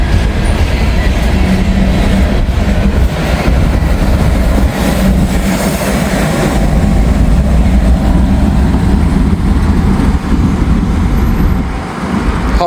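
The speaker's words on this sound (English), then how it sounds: "Nothing like a coal train. All right. He's done passed. The gates have gone up." A long, heavy coal train rumbles loudly through a railroad crossing, its steady low roar and rolling wheel clatter continuing without a break, with light traffic noise mixed in.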